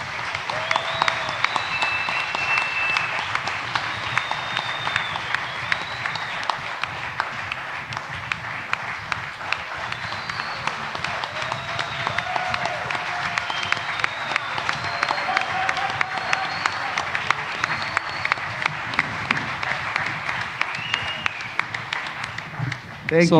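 An audience at a reggae event gives the singer a long, steady round of applause that carries on for over twenty seconds, with a voice heard over the clapping.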